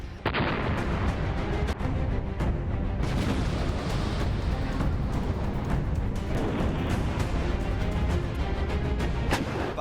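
Heavy artillery fire from an M777 ultra-light howitzer, a dense continuous barrage of booms and blasts roaring loudly throughout with no pauses, close and overwhelming.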